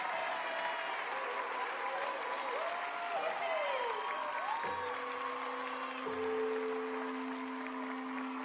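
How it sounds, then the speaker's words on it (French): An audience applauds two champion women in a light patter of clapping with a few faint whoops, while a voice talks over it and a steady musical tone enters partway through. "On applaudit nos deux championnes."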